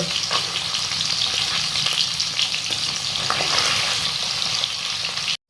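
Food fries in hot oil for methi paneer malai, a loud, dense, continuous sizzle with a few faint stirring touches, close up, cutting off abruptly at the very end, with no voices.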